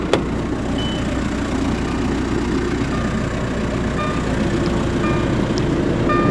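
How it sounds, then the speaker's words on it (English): A 2006 Volkswagen New Beetle TDI turbo diesel engine idles steadily, a low continuous rumble with a faint clatter that holds even throughout, with no talking over it. "It has the TDI turbo diesel engine."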